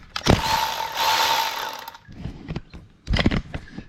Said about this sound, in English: It's nice to use those electric tools because they got a light too